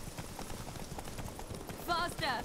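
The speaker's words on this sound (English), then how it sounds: "Like all of a sudden, a horse race." A horse gallops in a race in The Witcher 3, its quick rhythmic hoofbeats steady throughout, with a short whinny near the end while someone talks over it.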